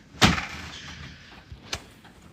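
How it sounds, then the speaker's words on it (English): A house door shut in a hurry: one loud, close thump followed by a second fainter bang about a second and a half later, with no speech over it. "Okay, shut the door."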